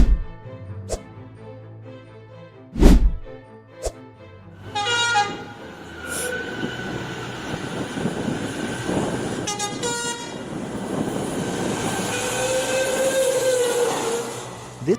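A train rumbles past a level crossing nearby with a few horn blasts and clanking wagons, the rolling noise building and holding steady toward the end.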